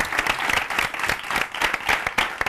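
A television quiz show studio audience claps for a school team, close, lively applause with individual claps in uneven bursts and faint voices mixed in.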